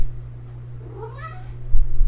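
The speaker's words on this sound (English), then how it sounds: "that's my cat" A cat gives a single clear meow, rising then falling, against a steady low electrical hum in a quiet room, with a short burst of background noise near the end.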